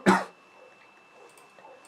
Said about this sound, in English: Ooh, I need a cough.